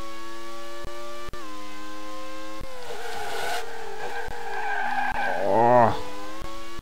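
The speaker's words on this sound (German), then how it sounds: "Da hatten wir ein bisschen durchdrehende Reifen." A race car in the Grand Prix 2 video game, at the Czech Grand Prix, drones on a steady engine tone, then its tyres spin and squeal in a rough burst near the end.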